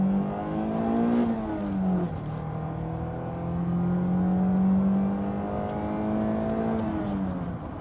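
A Toyota MR2 engine pulls at full throttle, a loud, somewhat rough drone that climbs in pitch, drops briefly at a shift around two seconds, then climbs again and eases near the end.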